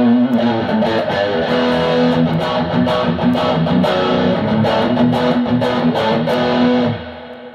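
A crunchy overdriven electric guitar played through a Boss BC-2 Combo Drive pedal with the gain turned up to crunch plays steady chords and riffs, loud and continuous, ending with a ringing fade.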